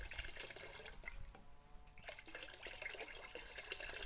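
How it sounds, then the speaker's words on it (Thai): Spoiled milk being poured into a container for a homemade plant fertilizer mix, a steady liquid stream splashing close by with no talk. "อันนี้เป็นนมบูดเนี่ยเทลงไปเลยค่ะ"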